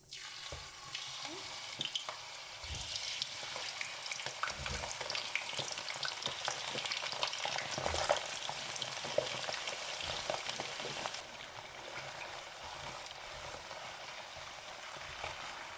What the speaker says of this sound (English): We need to fry the potatoes until it's cooked and golden brown